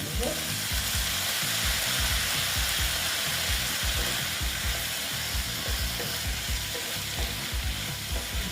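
Besan-coated bhindi sizzles loudly in a pan just after a splash of water is added, a dense continuous frying crackle with soft stirring knocks underneath, close and steady throughout.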